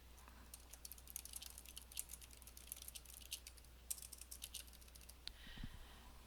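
Rapid bursts of typing on a computer keyboard, close and quiet, with irregular clusters of key clicks and short pauses, no voices.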